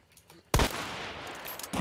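A single loud gunshot in the video game Hunt: Showdown cracks close by and is followed by a sustained rumbling echo, then a second burst begins just before the end.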